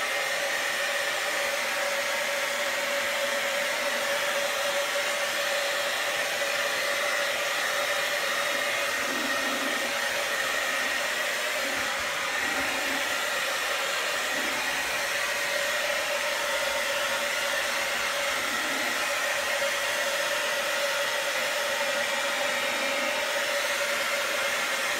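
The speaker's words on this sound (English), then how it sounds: "This hairdryer is so, it's really, really powerful." A hair dryer blows continuously at full power, a steady, loud whooshing roar with a constant whine that never changes for the entire stretch.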